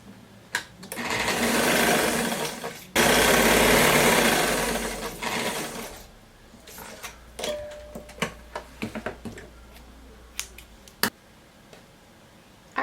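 A sewing machine stitches a sleeve seam allowance on a sunflower-sleeve dress, running in two long steady bursts, then giving way to scattered clicks and ticks as the fabric is handled.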